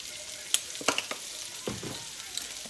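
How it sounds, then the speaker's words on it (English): Garlic and shrimp sizzle in a pan while being stirred, soft frying hiss broken by several sharp clinks and scrapes of a utensil, heard up close with no talk. "So you let it cook and just stir it around a little bit."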